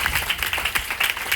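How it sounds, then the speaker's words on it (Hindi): Audience at a DXN company branch meeting in Patna claps steadily for a speaker, a dense, even patter of many hands at moderate loudness throughout. "एक जोरदार ताली इनके लिए"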